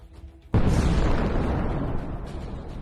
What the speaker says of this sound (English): The hit is enough to destroy the enemy tank.